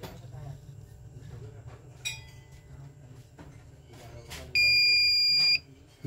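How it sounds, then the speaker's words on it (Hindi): CCTV camera circuit board during a password reset emits one steady, loud electronic beep lasting about a second, after quieter handling clicks and faint background noise. "बीप का साउंड आने के बाद"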